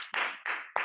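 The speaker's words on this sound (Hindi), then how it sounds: "एक जोर से तालियां बजाओ।" A group claps loudly at a birthday celebration, a short burst of dense, close applause with three brief swells.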